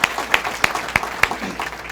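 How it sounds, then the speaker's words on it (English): A luncheon audience gives a round of applause, heard as a handful of sharp, distinct claps at a steady beat over a softer murmur of clapping in a room. "Round of applause."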